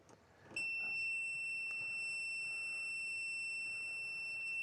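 Steady, continuous high-pitched beep from an Aneng multimeter's continuity test, sounding loud and close from about half a second in and holding without a break to the end, over faint background noise.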